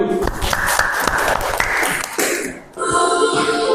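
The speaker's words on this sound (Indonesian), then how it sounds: "Tepuk tangan dulu." Audience applause fills a room with a dense, continuous patter of many hands clapping, fairly loud and close, shifting in texture toward the end as the clapping thins and other room sounds take over.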